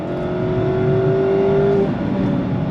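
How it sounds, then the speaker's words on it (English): A 2-liter four-cylinder engine in a 2023 Mazda MX-5 RF Miata revs hard and climbs steadily in pitch toward the redline, loud and close, then eases off briefly near the end. "love the way that 2-liter straight 4 just revs out all the way to red line"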